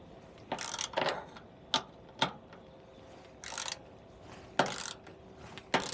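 A ratchet works on 10 mm bolts at the front bumper of a Seat Ibiza 1.4, giving sharp separate clicks and ticks at irregular intervals over a quiet background.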